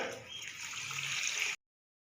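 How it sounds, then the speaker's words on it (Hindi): Water pouring steadily into a pot of tomatoes, salt, red chilli and vinegar for homemade ketchup for about a second and a half, a close splashing gush that cuts off abruptly. "और 1 लीटर पानी इसके अंदर जाएगा।"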